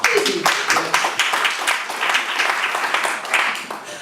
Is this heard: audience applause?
yes